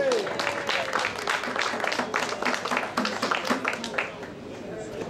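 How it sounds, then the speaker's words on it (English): An outdoor crowd at a World Sword Swallower Day event in San Francisco applauds with dense, steady clapping and a few cheers, while voices carry through the whole stretch. "Let's do a big round of applause for Ripley's and the Sword Swallowers Association."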